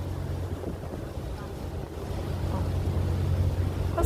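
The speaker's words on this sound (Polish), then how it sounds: "Jest taka łódź, taki prom." A ferry boat on Lake Como, with a steady low engine rumble and water wash mixed with wind buffeting the microphone, growing slightly louder.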